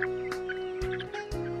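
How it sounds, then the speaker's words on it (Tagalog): Chickens and RR roosters cluck and gobble close by in a family compound, several short overlapping calls over a steady low hum, with soft thumps in between. "Yan mga RR rooster."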